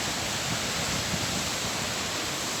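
Winter waterfall at Flotterstone roaring as a dense, steady wash of water, loud and close throughout with no break or voices.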